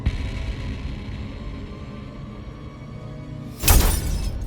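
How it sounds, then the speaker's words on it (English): A hall chandelier in a haunted house crashes down and shatters, a sudden loud burst of breaking glass after a low, steady rumble, with the debris briefly ringing out. "the chandelier crashed into the front door, right where he was standing"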